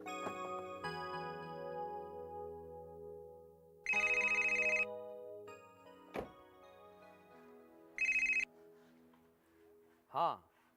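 A telephone rings in two short electronic bursts a few seconds apart, loud and close, between soft background music and a voice.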